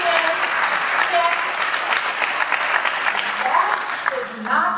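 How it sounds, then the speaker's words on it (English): A Toastmasters district audience breaks into loud, dense clapping that runs the whole time, with brief voices and cheers mixed in. "Claps for DTMs."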